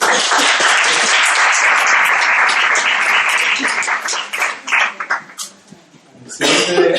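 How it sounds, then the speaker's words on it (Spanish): An audience at a medical ethics congress applauds a presenter, dense clapping that stays strong for about four seconds, then thins into scattered claps and a cough before a final short burst. "un aplauso para David"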